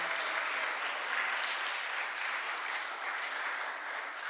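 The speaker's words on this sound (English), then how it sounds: "let's have another round of applause for John for his wonderful work with the choir" Church congregation applauding for a choir leader, a steady, even wash of clapping from many hands that holds throughout at moderate distance, with no voices over it.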